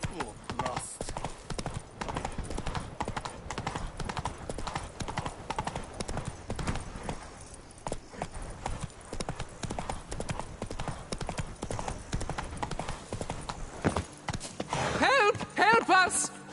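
Horse moving off at a walk, its hooves clip-clopping in a steady, close rhythm while voices talk over the sound.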